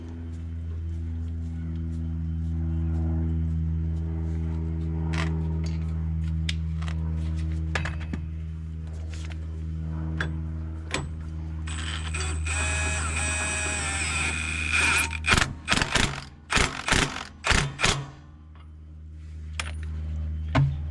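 Hand tools fit the bottom washer onto a new shock for a 2022 Ram 3500 truck, heard as scattered metallic clicks and ratchet bursts over a steady low mechanical hum, growing into a rapid cluster of clacks near the end.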